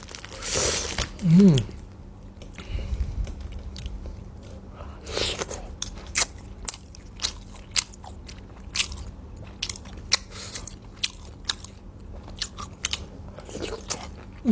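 Close, wet crunching and biting while eating soi ju, a Thai raw beef dish, with steady chewing clicks and smacks across the clip and a brief spoken moment near the start.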